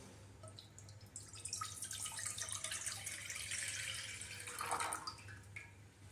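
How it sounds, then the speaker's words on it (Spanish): Water runs from a tap into a saucepan being filled for Mexican rice pudding, a steady close splashing and trickling stream with dripping detail, heard alone without talk. "y pondremos el agua,"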